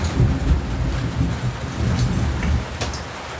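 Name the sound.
thunder during rain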